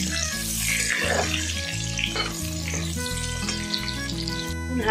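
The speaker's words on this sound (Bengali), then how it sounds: "হালকা করে ভেজে নিয়ে রাখতে হবে।" Eggplant fries lightly in hot oil with a steady sizzle, while a clanking rhythmic kitchen sound and background music play over it.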